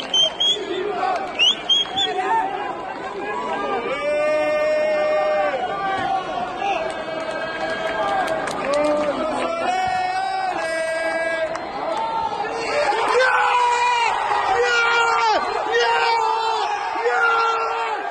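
A football crowd roars and cheers as Scotland score against Cyprus in a European Qualifier. The sound is a loud, sustained wall of yelling and whooping, with individual shouts standing out close by.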